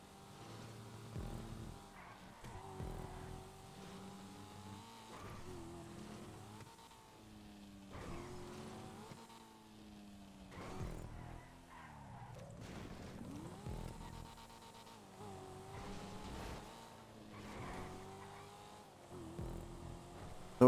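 Race cars driving in GTA Online during a stunt race, engines droning and shifting pitch up and down at moderate distance, a steady wavering hum with no voices.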